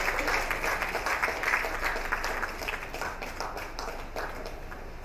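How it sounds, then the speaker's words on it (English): A room at a book launch applauds Brigadier General Adegbe as he walks to the high table, a steady, fairly full round of clapping that eases off slightly toward the end. "Please a round of applause for him as he comes to the high table"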